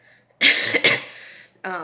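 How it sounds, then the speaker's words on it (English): A close, harsh cough from a person with the flu bursts out twice in quick succession, followed by a short breathy sound, with no talking. "Sorry if I am coughing"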